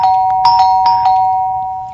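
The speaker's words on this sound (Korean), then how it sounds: "아침에 눈뜨기가 무섭게 또다시 초인종이 울리는 겁니다" A home doorbell chimes in a bright, sustained electronic ring, with a few repeated tonal strikes over a steady hum, loud and close with no talking.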